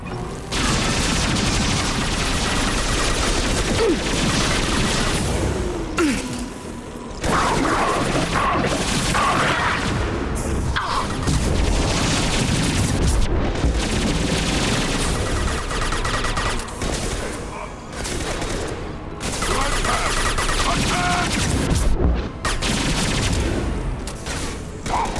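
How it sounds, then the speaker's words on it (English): A laser weapon firing in the Mass Effect 2 video game, heard as a long, loud stretch of continuous weapon fire with crashes and booms under a dense battle mix. "This weapon is a goddamn laser"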